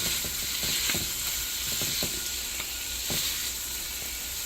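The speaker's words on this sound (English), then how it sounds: "Just get a nice little browning butter on it." Chicken browning in butter in a pan gives a steady, close sizzle, with soft scraping stirs and clicks breaking through now and then; no one speaks.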